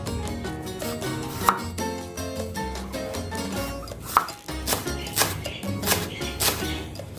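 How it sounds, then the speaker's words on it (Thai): A knife chops vegetables on a cutting board for pork skin larb, with rapid, steady, close-up thuds over background music, and a couple of sharper knocks standing out. "ปูก็มาเตรียมหั่นผักนะคะจัดจานแล้วก็หั่น ผักที่จะใส่เข้าไปใน ลาบของพี่ปูนะคะ"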